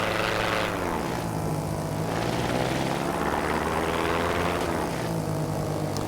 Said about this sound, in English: This kind of reminds me of like a little bush pilot plane